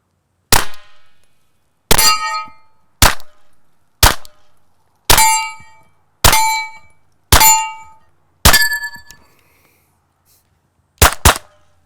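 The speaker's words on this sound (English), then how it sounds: "I'm going to throw a couple rounds down range" Suppressed shots from a SilencerCo Maxim 9 integrally suppressed pistol in its short configuration, about nine sharp, clanging reports spaced roughly a second apart with brief ringing tails and a longer pause before the last two quick shots.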